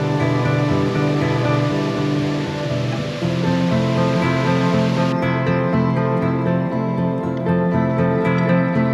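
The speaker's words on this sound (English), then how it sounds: "We got 2 more waterfalls." A waterfall near the Road to Nowhere tunnel roars as a steady, loud, broadband rush of falling water that holds throughout with no voices.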